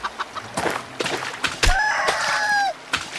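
Chickens cluck in short, scattered bursts before a rooster lets out one clear, drawn-out crow close by, followed by a few more clucks.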